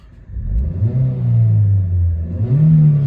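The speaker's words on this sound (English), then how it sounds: "Let's give it a rev." A 2008 Mazda 5 Sport 2.0 engine revs up from idle, a steady low droning roar that climbs and holds, then surges again near the end, close and loud with no talking.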